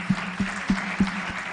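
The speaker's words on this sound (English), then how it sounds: "Maybe we can give him a round of applause" Brief applause at a Saudi procurement conference, with a few evenly spaced, prominent claps standing out over a soft background hiss of the room.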